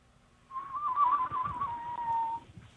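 A person whistles a wavering, bird-like tune with the tongue, one continuous melodic line lasting about two seconds, loud and close, with faint room murmur underneath and no talking.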